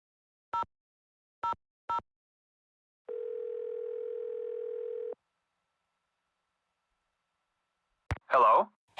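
A telephone dial tone in a Nancy Drew video game: three short beeps, then a steady tone lasting about two seconds, followed by silence and a brief electronic sound at the end.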